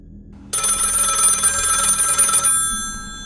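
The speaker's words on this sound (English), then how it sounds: "Alright, answer the phone" A telephone bell rings in the horror video game A Whisper in the Pines, one loud, steady electronic ring lasting about two seconds after a quiet start, then fading with a lingering tone.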